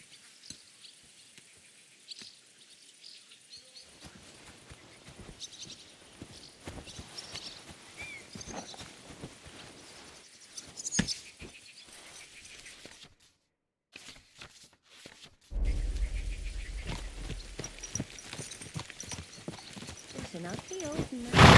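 Horse hooves clip-clop in Kingdom Come Deliverance 2, a steady walking rhythm mixed with game ambience and voices, with a brief gap of near silence before a louder stretch at the end.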